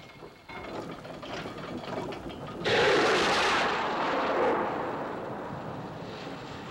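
Lifeboat davits lower boats down the side of the Titanic with a harsh mechanical grinding and ratcheting that bursts in loudly partway through, then holds as a dense rumble before slowly easing off.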